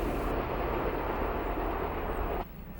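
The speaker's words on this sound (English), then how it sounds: "An Atlantic City Express train rolls through the former grade crossing of Honey Run Road." An Amtrak Atlantic City Express train on the Northeast Corridor rolls through the former Honey Run Road grade crossing near BWI, a broad steady rushing roar that drops off abruptly near the end.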